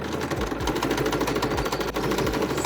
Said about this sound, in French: Maintenant, tu vas appuyer sur la pédale et ça va commencer à coudre.